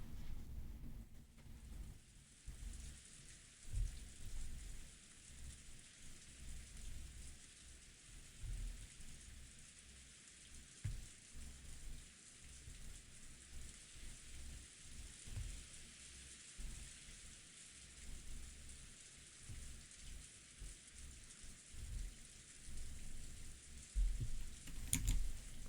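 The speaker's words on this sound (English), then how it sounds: "Well, the raining's still happening there." Steady rainfall with low rumbles of thunder plays in the mystery visual novel Umineko: Legend of the Golden Witch, a soft, continuous hiss with occasional deeper rolls, faint and distant throughout.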